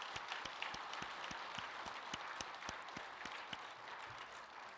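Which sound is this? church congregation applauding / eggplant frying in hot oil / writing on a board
church congregation applauding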